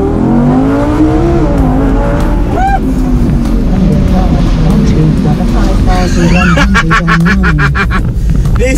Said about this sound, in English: we are in an Audi R8 V10, and this car is a bit of a madness